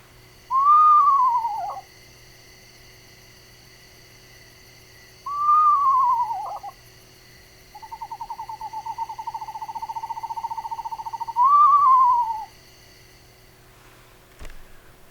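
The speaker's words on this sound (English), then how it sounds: "Their call, however, is hard to miss, combining slow trills with horse-like whinnies." A screech owl calls alone in the quiet on the Colorado plains, giving descending whinnies and one long, even trill, with gaps between the calls.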